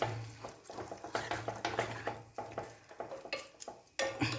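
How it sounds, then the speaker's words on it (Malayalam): Metal spoon scraping the inside of a pot of payar erissery curry and ladling it out, a run of short clattering scrapes and taps in a quick irregular rhythm, close and alone. "ഇതും കൂടെ ഒന്ന് തോണ്ടി വടിച്ചിട്ടിട്ട് ഒരല്പം കറിയെടുത്ത് ഇതിനകത്തോട്ട് ഒഴിച്ച്"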